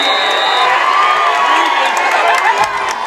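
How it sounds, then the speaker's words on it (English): A high school varsity football semifinal crowd roars steadily after a penalty flag is thrown, with whoops and shouts rising from the stands. "The crowd is happy to see the officials throw a flag going the other way."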